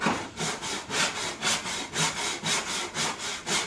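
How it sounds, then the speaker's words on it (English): An old hand saw cuts wood in a 30-year-old miter block, with about a dozen rhythmic rasping push-pull strokes, close and loud with no voices. "This is about a 30-year-old miter block with just as an old saw."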